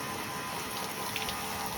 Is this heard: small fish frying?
no